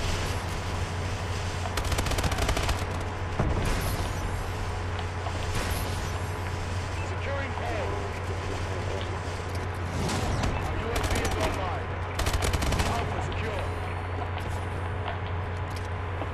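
Video game firefight with a shotgun and other gunfire, bursts of shots popping over a constant engine-like drone and background game noise, with a voice talking at times.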